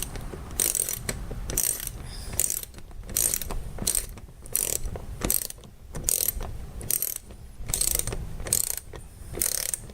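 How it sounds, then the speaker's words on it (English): Ratchet wrench cranking a screw into a plastic part on a Toyota RAV4, a steady run of rapid clicking bursts with short pauses between strokes, close and fairly loud, with no talking. "Don't over tighten it because you're screwing it into plastic"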